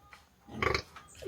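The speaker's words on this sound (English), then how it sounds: "And this is mommy piggy" A mother pig on a Jamaican farm gives a short, close, rough grunting burst, a few pulsed snorts, with quiet surroundings before it.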